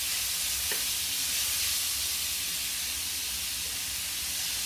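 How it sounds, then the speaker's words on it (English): Mince fries in coconut oil in a pan while being stirred and broken up, giving a constant bright sizzle and hiss at close range with a faint tap of the utensil, no talking. "in the pan now you can start seeing the bottom sticking. I'm continuously moving it around so it breaks all down"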